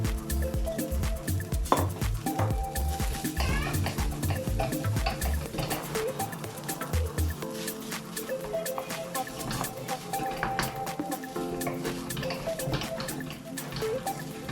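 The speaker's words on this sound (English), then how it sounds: "Now I'm going to add my rice." Hot cooked rice for egg fried rice tipped into a pan with garlic chilli paneer and coriander leaf, then stirred, with repeated scraping and clinking of a utensil against the pan over steady background music.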